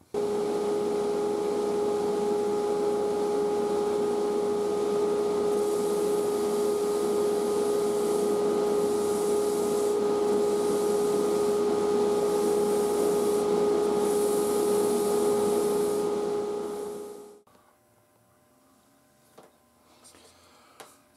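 A vacuum cleaner's steady droning motor with a constant whine runs for about seventeen seconds during finishing of an oval bowl, then cuts off, leaving near silence with a few faint knocks.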